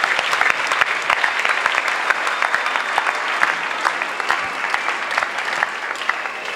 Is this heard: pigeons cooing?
no